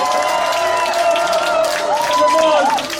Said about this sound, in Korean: 우리 무소속 홍준표 의원께 큰 박수 부탁드립니다